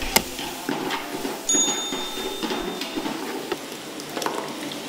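Tomatoes, mint and coriander sautéing with ginger and garlic in a large pot of chicken dum biryani, a moderate sizzle broken by scraping stirs and clinks of a ladle against the pan.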